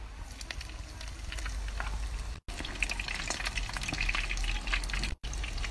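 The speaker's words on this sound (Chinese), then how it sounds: "裹好面糊之后五成油温下锅炸" Battered fish deep frying in medium-hot oil, a steady dense crackling sizzle that fills the whole stretch, close and continuous, with two brief cutouts and no voices.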